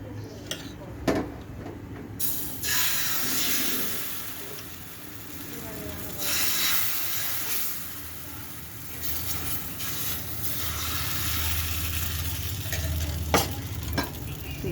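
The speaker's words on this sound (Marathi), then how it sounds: "आता आपण तव्याला तेल लावलेले आहे आणि त्यावर आता हे मिश्रण टाकलेले आहे" Thin rice batter sizzling on an oiled griddle over medium-high gas for Malvani ghavan, a steady frying hiss running throughout, near and moderately loud, with a few brief clinks.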